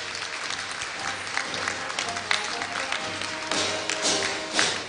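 Audience applause at a Korea University degree-conferring ceremony, a steady wash of many hands clapping for about five seconds, moderately loud with a few sharper claps rising near the end.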